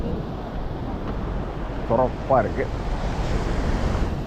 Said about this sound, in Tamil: நல்லா ஹெவியான அலைகள்.